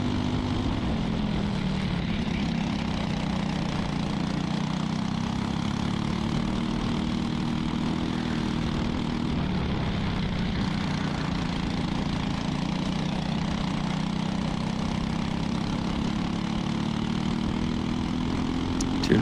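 A 206 senior light kart engine at full throttle during a race, a loud, continuous buzzing drone heard close up with small shifts in pitch throughout.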